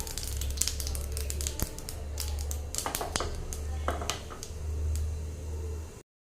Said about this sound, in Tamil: உளுந்து கடுகு எல்லாமே நல்லா பொரிஞ்சிருச்சுங்க